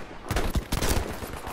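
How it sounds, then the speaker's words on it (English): In the video game Battlefield V, a grenade blast and a burst of gunfire crackle in quick succession, sharp and close, over roughly a second of rapid cracks before dying away. "Grenade going out!"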